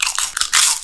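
Doritos chips crunched loudly right at the mic, a quick burst of crisp snapping bites in under a second.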